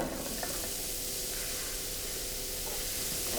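Onions sauté in olive oil in a pan, giving a steady, close sizzle with a constant hiss and faint crackles and no talk.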